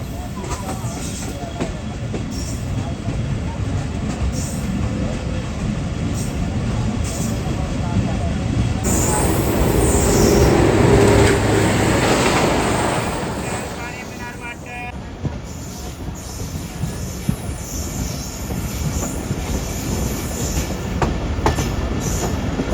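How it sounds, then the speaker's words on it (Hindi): The Rehman Baba Express, a crowded passenger train, pulling away toward a station: steady low rumbling and clattering of wheels on rails that swells in the middle, with faint squeals and background noise throughout. "तो फाइनली ट्रेन एक बंद रुकने के बाद ही मूव होना शुरू हो गई है स्टेशन की तरफ।"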